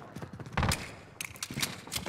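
Gunfire in the video game Modern Warfare Warzone: quiet bursts of rapid shots and thuds, spread irregularly across a couple of seconds.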